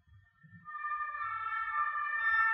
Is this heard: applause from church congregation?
no